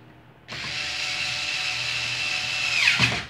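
A power screwdriver drives a screw into the oscillation gearbox of a Mallory electric fan, one steady high whirring burst of about two and a half seconds that rises in pitch and stops abruptly, alone and close.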